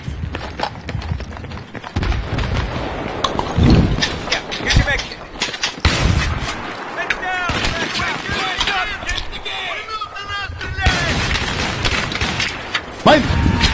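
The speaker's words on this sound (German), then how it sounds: "Ich höre meine Schüsse sogar noch" Battlefield 3 gunfire crackles in repeated bursts of shots and booms throughout, loud and busy, mixed with excited German chatter from players over the action.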